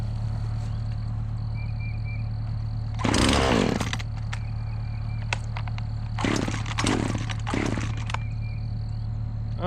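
A Husqvarna chainsaw cutting up a tree idles with a steady drone, rising to loud, close revving bursts three or four times.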